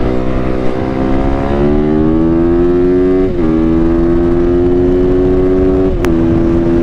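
A Yamaha YZ450F dirt bike pulls hard in third gear on a top-speed run, its engine a loud, continuous high-revving drone that climbs steadily in pitch, with one brief dip in the middle, close and without any talk.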